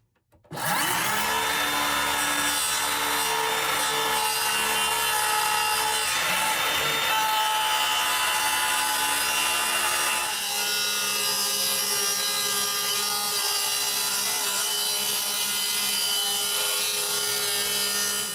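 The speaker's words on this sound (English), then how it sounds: "you have the saw like this. It won't cut if you do that." A loud, continuous saw cutting through wood on a teardrop trailer hatch rasps close up and alone for the whole stretch, its tone shifting slightly midway.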